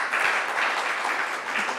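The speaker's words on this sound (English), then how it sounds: "So please join me in giving them a wonderful, wonderful round of applause." A conference audience applauds a panel at a power-systems event, a steady, dense wash of many hands clapping that carries evenly from start to finish with no speech over it.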